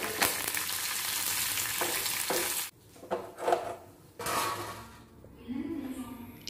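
Curry leaves and lentils frying in a pan, a loud crackling sizzle that cuts off, followed by intermittent stirring scrapes and fainter frying, with a brief voice near the end.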